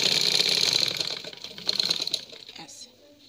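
A simple sewing machine runs a double seam on fabric in a short, close burst of rapid rattling stitching that fades toward the end.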